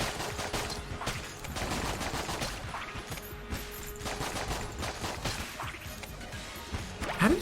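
Brick Breaker gun from Enter the Gungeon firing in rapid, dense bursts of crunchy impacts and smashing hits, loud and near, running almost continuously with brief pauses amid in-game clatter.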